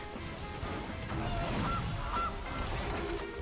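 A goose honks in a video game, with repeated nasal calls over a dense, steady wash of background noise.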